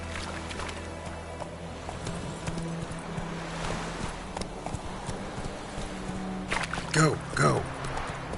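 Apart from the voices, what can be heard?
horse Roach's hooves trotting, from video game Witcher 3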